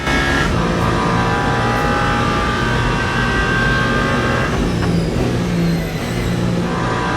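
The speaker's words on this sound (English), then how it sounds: "We'll accelerate out to arrive at the Porsche S's." A race car in Le Mans Ultimate accelerates hard out of a very slow first-gear right-hander at Le Mans, engine note rising and holding loud and close throughout.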